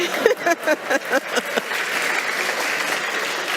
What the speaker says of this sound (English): Okay, we can clap for that.